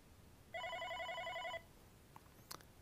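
A single electronic ring of a Unify office desk phone lasting about a second in a quiet room, followed by a couple of faint clicks.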